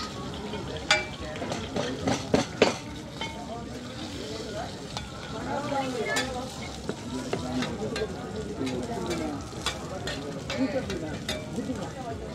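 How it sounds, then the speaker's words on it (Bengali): Hilsa fish frying at a busy beach food stall, with loud crackling from the pan, clinks of utensils and sharp clatters, while a crowd chatters and vendors shout throughout. "ভাজা ভাজা ইলিশ।"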